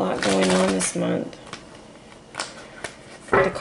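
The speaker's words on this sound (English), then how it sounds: "The cards are so hard to shuffle." Tarot cards riffle and snap in several quick bursts, with brief talk at the start and near the end.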